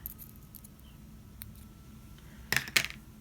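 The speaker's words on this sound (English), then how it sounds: "get our scissors and we can just cut off the excess thread" Scissors cut excess beading thread, giving two quick, sharp snips close together near the end after a quiet stretch with only faint small clicks.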